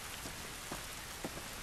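Steady rainfall in The Last of Us Remastered, a dense even hiss of drops on outdoor surfaces with a few slightly louder nearby spatters, no talking.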